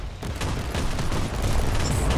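A steady barrage of booming blasts and rapid gunfire-like bursts in the Warhammer 40k Inquisitor Martyr video game, loud and sustained, building slightly toward the end.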